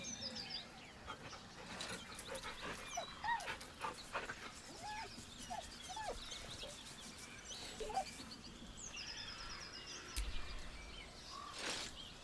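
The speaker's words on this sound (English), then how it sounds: "With a deep, heartbroken whine, the dog bows his head." A dog in the video game Baldur's Gate 3 whines and whimpers in several short, high, wavering cries over a quiet outdoor ambience with faint bird chirps.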